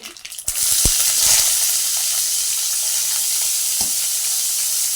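Ginger drops into a hot pan and starts sautéing with a sudden loud sizzle after a brief clatter, then settles into a steady, close frying hiss broken by a few scrapes of stirring, with no talking.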